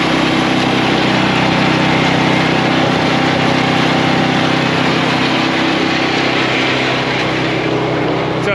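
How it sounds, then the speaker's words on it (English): A Toro Ultra mixer's small Kohler engine runs steadily and loudly close by, a constant droning hum with no change in pitch or speed throughout. "The Ultra mixer. Kohler engine down in there."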